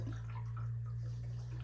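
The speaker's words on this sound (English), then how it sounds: "Here comes the water." Water running into a gold sluice just after it is switched on, a steady, faint wash of flow over a constant low pump hum, with no talk.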